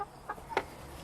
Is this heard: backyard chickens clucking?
yes